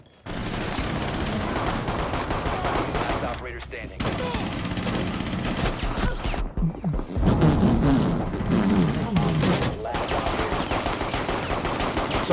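Rapid gunfire in the tactical shooter Rainbow Six Siege, loud, near and nearly continuous in bursts, broken by short lulls, with players talking over the shots.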